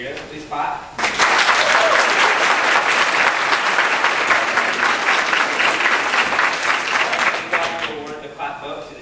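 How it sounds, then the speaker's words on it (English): Audience at a college forensics night applauds as a vote for a debate team from Cerritos, a dense, sustained clapping that swells quickly, holds loud for about seven seconds, then thins out. "please clap"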